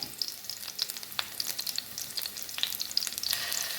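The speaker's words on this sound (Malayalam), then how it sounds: "ചെറുതായിട്ടൊന്ന് ചതച്ചതിന് ശേഷം നമുക്കിതിലോട്ട് ഈ ഓയിലിലോട്ട് ഇടാം. അതൊന്ന് ചെറുതായിട്ടൊന്ന് വരട്ടെ" Crushed ingredients sautéing in hot oil for a prawn frittata, a steady close crackle and sizzle with dense popping spatters throughout and no talk.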